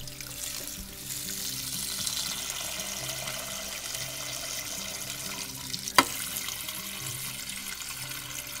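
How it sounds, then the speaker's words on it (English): Cold tap water runs steadily into a slow cooker pot, a continuous rushing splash at moderate loudness with a single sharp knock partway through. "My assistant Duvi is going to turn on the water."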